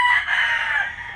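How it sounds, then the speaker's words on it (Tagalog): A backyard fighting rooster crows loudly and close by in one sustained call that fades toward the end, with no other sounds. "manok namin sa likod na panabong."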